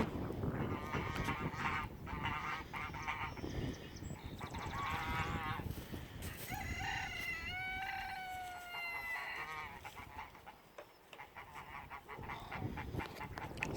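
A flock of geese, ganders among them, honk loudly in repeated overlapping calls that come in bursts, close by, with other farm fowl clucking in the background and no talking.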